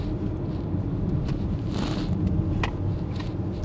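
A Genesis GV80 Coupe driving in sports mode, heard from inside the cabin as a steady low engine and road rumble with a faint wind hiss, continuous and even throughout.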